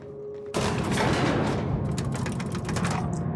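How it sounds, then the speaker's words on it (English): A coolant gun fires in The Outer Worlds, bursting in abruptly after a brief quiet lead-in and then sustaining a loud, crackling, rapid-fire discharge with mechanical rattling that continues to the end. "I do like this coolant gun."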